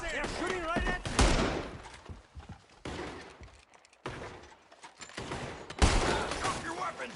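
Bursts of gunfire in the Western game Red Dead Redemption 2, sharp loud volleys that crack and roll away in several clusters, separated by brief lulls, with shouted voices mixed in.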